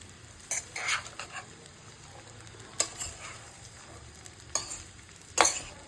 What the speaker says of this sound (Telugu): ఇవన్నీ ఇందులో వేసి పచ్చివాసన పోయే వరకు జస్ట్ ఒక 5 నిమిషాల లోపే వేయించుకోవాలి